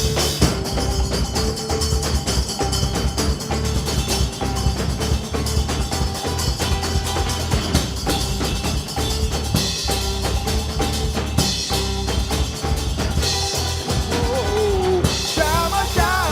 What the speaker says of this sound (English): This is the sound of the mridanga, the thunder.